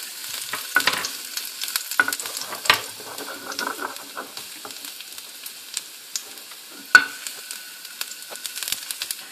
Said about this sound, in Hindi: ये 1 चम्मच मैंने तेल गर्म करने के रखा हुआ है और अब मैं इसमें ये लहसुन डाल देती हूँ।